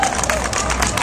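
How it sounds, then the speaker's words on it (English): Crowd applause and cheering at an outdoor veggie pride parade rally in New York, loud and dense with babble of voices mixed in. "Can we get a round of applause for Pamela, please?"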